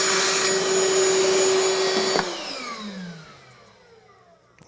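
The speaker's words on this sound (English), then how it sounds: "Might as well vacuum that though." A robot vacuum (Ecovacs Deebot N79) roars loudly up close while being vacuumed clean, then switches off and its motor whines down to silence.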